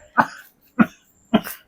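Three separate coughs from one person, close and evenly spaced about half a second apart, each a sharp burst with quiet gaps between and no talking.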